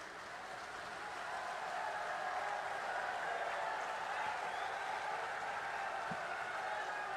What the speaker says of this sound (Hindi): मैं एक बार पूरी भीड़ से कहूंगा कि खड़े होकर तालियां बजा के गृह मंत्री जी का स्वागत करें